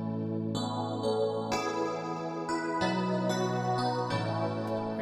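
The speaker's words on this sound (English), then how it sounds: "Again, this is the Logic preset 80s FM piano that you can find in the preset library." Logic Pro 80s FM piano preset with reverb, stereo delay and chorus, a series of bright chord strikes every half second or so, soft and even, no voices.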